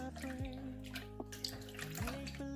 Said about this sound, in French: Je vais commencer par y mettre de l'eau.